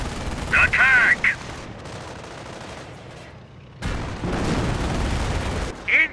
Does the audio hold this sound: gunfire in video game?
yes